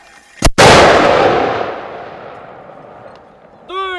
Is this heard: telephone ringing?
no